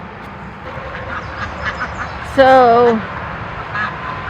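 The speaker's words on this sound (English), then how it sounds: "we have our chickens and our ducks. These ducks are so mouthy" Ducks kept alongside chickens in a backyard garden give a loud, close burst of harsh quacks, with fainter calls before and after and a brief spoken word near the start.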